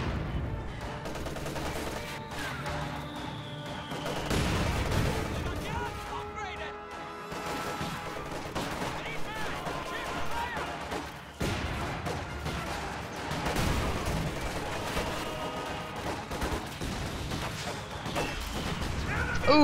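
Mortar and gunfire in a real-time strategy game battle, with scattered explosions and bursts of shots under steady commentary from a caster.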